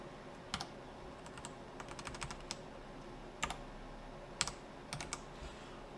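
Quiet keystrokes on a computer keyboard, scattered and uneven with short bursts and pauses, heard close against a soft background hum.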